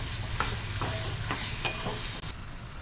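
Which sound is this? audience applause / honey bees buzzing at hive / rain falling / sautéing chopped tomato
sautéing chopped tomato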